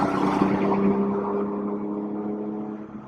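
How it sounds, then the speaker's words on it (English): Steady low engine drone with a deep exhaust rumble from a Porsche GT3, loudest at first and easing slightly, heard from inside the moving car with the window slightly down. "you can hear the exhaust"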